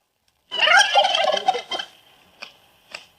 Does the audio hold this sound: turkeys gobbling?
yes